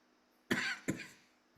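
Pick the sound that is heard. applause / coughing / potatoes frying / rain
coughing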